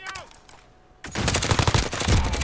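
Rapid automatic gunfire in a Call of Duty Modern Warfare Warzone duos match: a short burst, a brief lull, then a loud sustained stream of dense shots with a voice briefly underneath.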